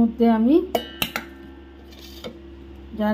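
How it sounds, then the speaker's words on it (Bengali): Boiled jackfruit seeds drop into a mixer grinder jar with a few hard clinks and knocks, close and sharp, while a person talks over the start and end. "সিদ্ধ করা কাঁঠালের আটিগুলো আমি দিয়ে দিলাম"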